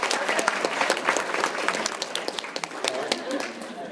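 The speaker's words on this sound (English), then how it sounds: "Let's give him a round of applause," A lecture-hall audience in an anatomy and physiology class breaks into steady applause, dense overlapping claps holding at an even level for the full few seconds.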